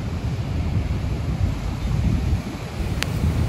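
Ocean surf crashes at Casiguran beach on the Pacific coast, a continuous heavy roar of waves mixed with gusty wind buffeting the microphone.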